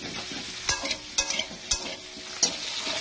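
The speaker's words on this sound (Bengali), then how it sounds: "এদিকে চলছে আমুদি মাছ ভাজা।" Amudi fish fries in a pan with a soft, steady sizzle, broken by several sharp scraping clicks as a utensil stirs and turns the pieces.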